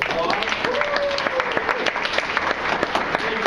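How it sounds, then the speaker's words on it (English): An audience at a live poetry slam gives a round of applause, steady close clapping from a modest crowd lasting a few seconds. "Let's give all of our opponents another round of applause."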